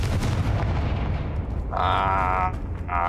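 A Confringo explosive spell cast in a Harry Potter video game: a dense, rumbling blast fills the start and slowly fades, then bright, shimmering magical tones swell twice near the end.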